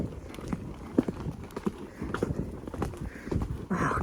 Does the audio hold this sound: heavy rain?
no